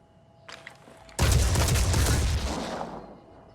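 A loud, close burst of gunfire from the turn-based tactics video game Phoenix Point: Terror from the Void, a sustained roar lasting about two seconds after a brief lead-in, then trailing off.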